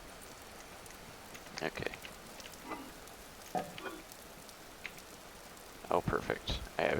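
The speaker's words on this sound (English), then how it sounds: "is it still raining? It kind of sounds like it is." Steady rain hissing in the video game Vintage Story, a faint even patter throughout with a brief spoken word and a few clinks and knocks on top.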